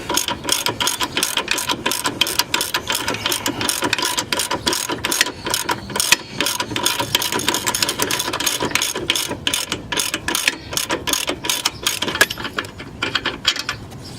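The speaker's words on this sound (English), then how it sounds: "This is the last bolt that I need to loosen for the subframe to come down." A hand ratchet clicks rapidly and continuously while loosening the last subframe bolt on a Chevrolet Cobalt SS, producing dense, even pawl ticks up close with no talk.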